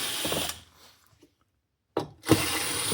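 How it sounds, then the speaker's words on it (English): Screws being removed from a Technics SL-1210MK2 turntable with a power tool, a short whirring burst, a silent gap, then another whir close by. "We're now going to remove the surrounding screws"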